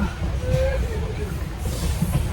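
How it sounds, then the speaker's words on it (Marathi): A normal sleeper-coach passenger train leaving Kundapur station in Karnataka, heard from inside as a steady rumbling run on the rails with faint hiss and a brief squeal, continuous and fairly close throughout. "नॉर्मल ट्रेन आहे, नॉर्मल डबे, स्लीपर कोच."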